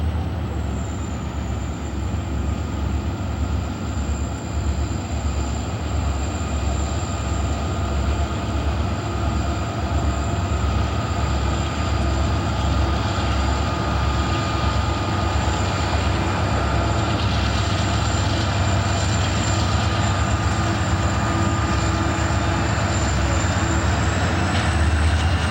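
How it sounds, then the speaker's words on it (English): An eastbound freight train leaves Roseville led by a pair of SD40-2 locomotives with a C40-8, rumbling loud and close the whole way through. A steady high whine runs above the roar of the engines and the wheels. "Another SD 40-2 pair with a C 40-8 head east out of Roseville"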